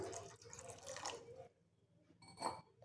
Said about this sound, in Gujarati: તો હવે આપણે એમાં અડધી ગ્લાસ બીજું પાણી નાખીશું